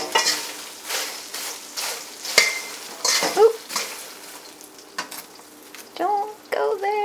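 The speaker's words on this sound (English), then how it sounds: "Listen to that sizzle." Fresh popcorn sizzling and popping in a hot bowl, sharp bursts of crackle with pauses between, scraping and clinking of the bowl, and a voice speaking briefly near the end.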